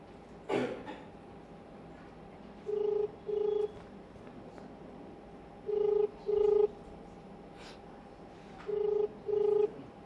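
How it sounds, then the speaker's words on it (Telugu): An outgoing phone call ringing on the line, a brief thump followed by three evenly spaced double-pulse ringback tones, each pair a pair of short buzzes, clear over a quiet background hum. "ఆయనకు ఒకసారి ఫోన్ చేద్దాం"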